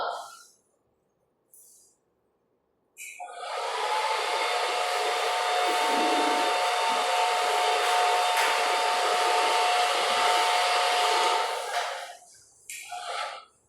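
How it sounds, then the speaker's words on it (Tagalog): A hair blower whirs loudly and steadily for about nine seconds after a quiet start, then cuts off, leaving brief faint sounds. "ito ay tunog ng isang blower."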